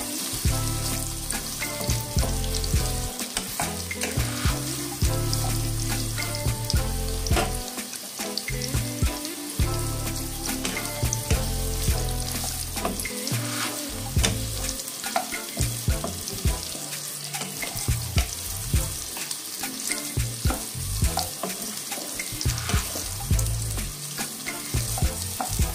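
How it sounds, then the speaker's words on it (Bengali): Rehydrated soybean chunks fry in hot oil in a pan, a dense continuous sizzle broken by repeated scraping and clattering as a spatula stirs them, close and without talk. "তো সোয়াবিনটা আমি এবার একটু নেড়ে দেবো, নেড়ে ভেজে নেব ভালো করে।"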